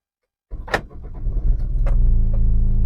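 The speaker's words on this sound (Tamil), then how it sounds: "இப்ப நான் வண்டி ஸ்டார்ட் பண்ண போறேன்." A car engine starts after half a second of silence, a brief cranking burst that settles into a steady, close idle rumble for the remainder.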